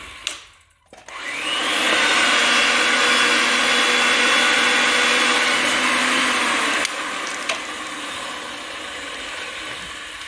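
Ridgid 300 pipe threading machine reaming the end of a cut pipe, starting up and then running as a loud, steady motor whine with a grinding edge, dropping slightly near the end with a couple of clanks.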